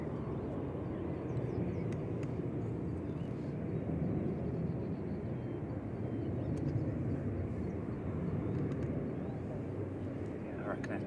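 A Jet2 airliner, registration VYGM, arrives at Manchester Airport on flight 922 from Dalaman, a steady distant engine roar that holds throughout, with people talking over it.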